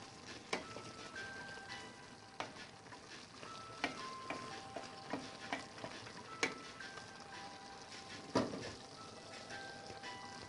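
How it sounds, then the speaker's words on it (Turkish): A spoon stirs a boiled leek dish in a metal pot, giving scattered soft scrapes and taps over a quiet simmering bubble, fairly faint and close. "Kaynadıktan sonra bir tur karıştırıp"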